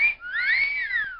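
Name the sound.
person whistling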